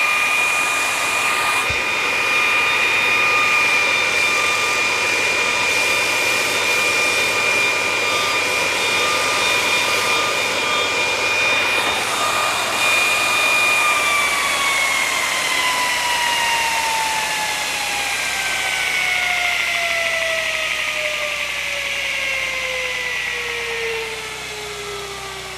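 A modified VEVOR 2x72 belt grinder runs alone with a loud, steady high-pitched whine and a smooth motor drone, the pitch sliding gradually downward in its second half as the machine slows.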